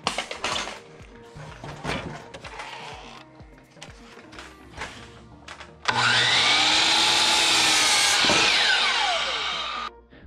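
A power saw cuts a wooden fence post for a board fence pony wall indoors. A loud, steady cutting whine runs for about four seconds and then winds down. Before it come scattered handling knocks and clatter.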